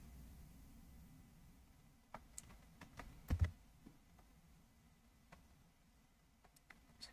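Computer keyboard keys tapped to paste text several times, a scattering of sharp, close clicks, a small cluster bunched together mid-way and a few isolated taps later, against a quiet background.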